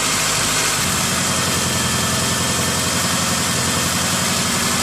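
A 2000 Honda CR-V engine idles with a misfire, a steady close rumble with a faint uneven pulse and no voices.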